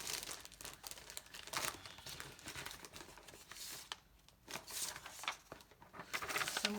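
Paper crumpled by hand off camera while covering a brown junk-mail pocket folio, a steady close crinkling and rustling that swells and fades in bursts with brief quieter gaps, no voices.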